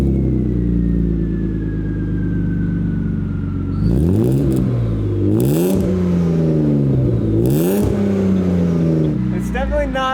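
A drift car revs its engine through a newly fitted exhaust after running a straight pipe, idling low and then climbing in several loud, rising revs close by.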